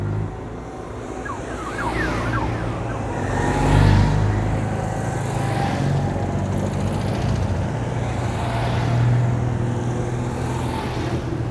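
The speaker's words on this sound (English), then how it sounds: "Here comes the Mahari" Citroën Méhari driving past at a 2CV gathering in Samobor, Croatia, its engine rising and fading amid steady crowd and traffic noise, with other small old cars audible around it.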